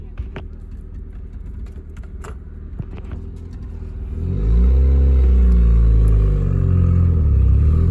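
A used manual stick-shift car at a dealership backs up, its engine rising from a low idle into a loud, close revving rumble under some brief background clatter.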